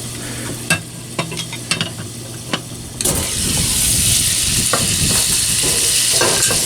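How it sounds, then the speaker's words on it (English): Meatballs fry in a cast iron skillet, a low sizzle marked by several sharp utensil taps, then a loud, dense frying roar takes over and holds steady up close. "we want to get them hard to know that they're starting to cook"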